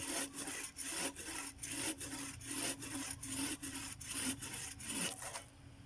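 A sharp hand saw cuts through firewood in a steady back-and-forth rhythm of rasping strokes, about a dozen, close by and without talking.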